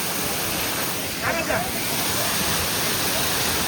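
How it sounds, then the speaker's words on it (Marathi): A waterfall flowing in heavy rain, a loud continuous broadband rush of water that fills the whole clip, with a brief voice over it. "खाली बघू शकता तुम्ही धबधबा पाठीमागे माझ्या"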